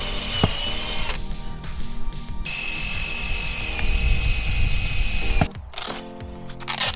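A power drill whines steadily through carbon fibre, drilling holes for a Mazda MX-5 NC spoiler, for several seconds, pausing briefly before spinning up again, close and loud.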